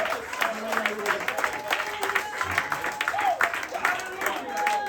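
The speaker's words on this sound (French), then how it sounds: "Est-ce qu'on peut acclamer pour le Seigneur?" Church congregation applauding and cheering for the Lord: sustained clapping and crowd cheers, moderately distant, with a preacher's voice and shouts mixed in throughout.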